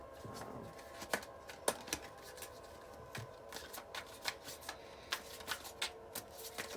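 Tarot cards being shuffled and drawn by hand, a soft steady riffling broken by sharper flicks and snaps of individual cards, close and quiet with no talking.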